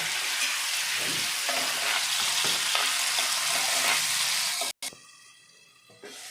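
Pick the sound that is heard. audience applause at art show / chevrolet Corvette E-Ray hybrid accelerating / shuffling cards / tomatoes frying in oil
tomatoes frying in oil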